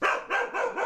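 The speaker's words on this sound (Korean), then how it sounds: "왜 갑자기 왜 이렇게 짖어?" A dog barking indoors on a Korean dog-training TV show, three loud, close barks in quick succession with a slight echo.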